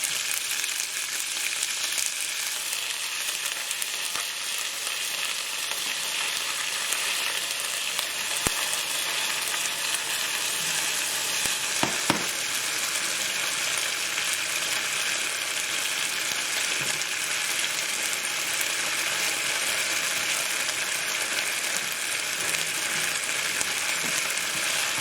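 Garlic fries in a pan with a dense, continuous sizzle and crackle, with a few sharp clicks of stirring utensils against the pan over a long, even stretch.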